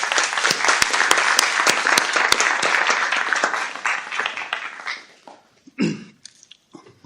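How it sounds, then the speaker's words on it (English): Applause at a county board of supervisors business meeting, a steady round of clapping from the room that thins out and fades near the end, followed by a few scattered sounds and a brief noise. "I would like to give them a special round of applause."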